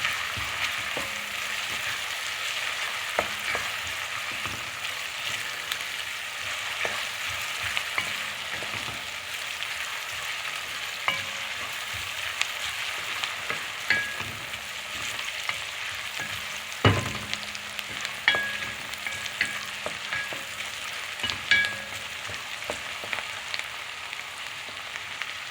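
Lentils sizzling and frying in a pan, a steady close crackle with occasional scraping and clinking of stirring, no talking.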